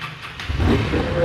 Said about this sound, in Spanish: Hay que prender la motocicleta